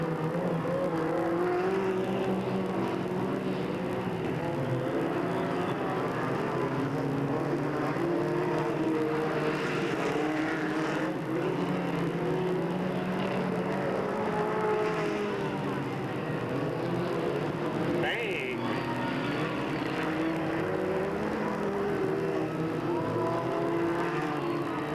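Race cars circle a dirt oval at Delta Speedway in 1997, their engines a steady, continuous roar with a car or two whining past closer at moments, heard from the stands.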